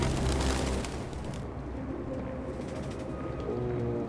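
Pigeons coo softly in the Detroit: Become Human video game, layered under a dense, steady wash of ambient game noise.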